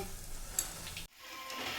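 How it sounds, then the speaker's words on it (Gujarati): Cauliflower fritters (bhajiya) deep-frying in hot oil give a steady, close sizzle. It briefly cuts out near the middle, then resumes as a brighter crackle with no voices present. "બધા હવે તળી દઈશું આવી રીતે"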